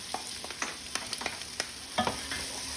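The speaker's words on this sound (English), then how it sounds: "give that a bit of a saute" Onion and jalapeño sautéing in oil for tortilla soup, with steady frying sizzle under repeated sharp stirring scrapes and taps, close and moderately quiet.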